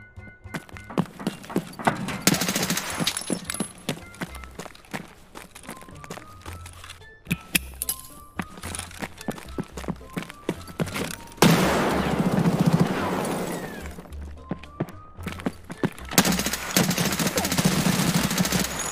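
Gunfire in the Escape From Tarkov video game: bursts of sharp shots and rapid fire scattered across the stretch, mixed with footsteps and movement sounds, fairly loud and close.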